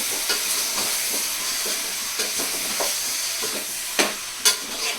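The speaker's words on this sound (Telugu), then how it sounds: "హై లెవెల్ పెట్టుకుంటాం. మంచిగా తిప్పేసుకోండి" Chicken curry frying on high heat while being stirred in a pan, a constant sizzle broken by scraping strokes and sharper utensil clacks near the end, close and alone.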